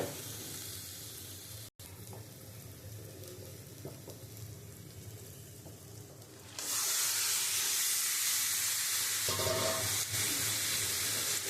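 Bombay duck fish, about a kilo and a half, hitting a pan of spice paste with green chillies on high heat: a quiet hiss that abruptly swells into loud, dense sizzling and steam, sustained to the end.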